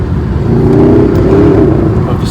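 A Mercedes SLS AMG engine drones steadily at close range under way, a constant low rumble with a slight rise in revs, no talk over it.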